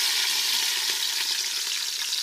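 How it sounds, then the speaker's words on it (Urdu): Onion and green chili sizzle in hot oil with a dense, steady, close hiss and fine crackle, unbroken for the whole stretch with no voices. "یہ آئل گرم ہو گئے، اب ہم اس میں یہ پیاز اور ہری مرچ شامل کریں گے"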